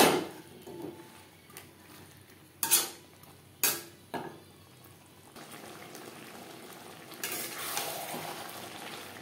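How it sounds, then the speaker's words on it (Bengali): Potato pieces stirred with spices in a pan for a pangas fish curry, a soft frying sizzle broken by several sharp utensil scrapes and knocks against the pan, close, with no talking. "মশলার সাথে আলু বেশ ভালো করে মিক্সড করে দেব"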